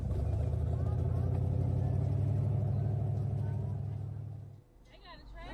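A pickup truck drives through water, its engine rumbling loud and steady before easing off near the end. Faint speech is heard once the rumble drops.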